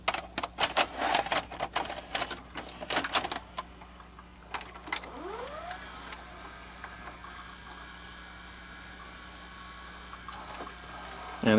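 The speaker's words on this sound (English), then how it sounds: "And so I will put a tape in, and this is a S-VHS tape." A Toshiba W804 S-VHS VCR takes in an S-VHS tape: a burst of clicks and clunks from the loading mechanism, then a rising motor whir and a steady quiet mechanical hum as the tape is threaded.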